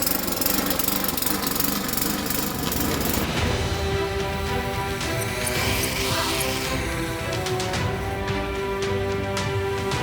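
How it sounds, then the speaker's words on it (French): An old lawn mower engine runs roughly, producing a dense, rattling, knocking drone that stays loud and close throughout with an irregular, sputtering character and no talk. "Elle fait un bruit bizarre la tondeuse."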